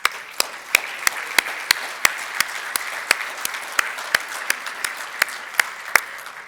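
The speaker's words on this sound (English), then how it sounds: "How about a round of applause?" Applause from an awards ceremony audience, a sustained, even round of clapping with crisp individual claps popping out at a fairly regular pace over a continuous patter, heard alone without speech.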